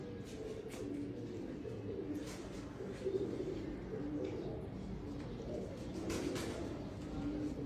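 Soft, low pigeon cooing repeats throughout, mixed with faint background chatter and light rustling, fairly quiet and close.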